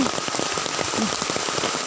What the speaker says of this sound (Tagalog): Umuulan dito oh